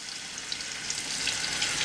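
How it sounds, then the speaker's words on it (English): Chicken pieces sizzling in hot oil in a pan for a chicken kabsa, a steady close crackling fry with bright spitting, no talking. "Oh, listen to that sizzle."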